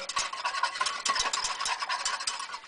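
A whisk beats eggs briskly into milk and maple syrup in a bowl, quick regular clicking strokes about four to five per second, close and distinct, with no talk.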